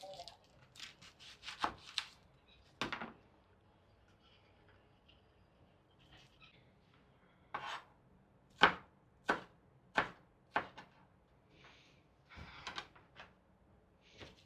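Knife chopping onion on a board, with irregular bursts of sharp cuts: a quick cluster early on, then a steady run of separate strokes in the middle, close and clear against quiet background.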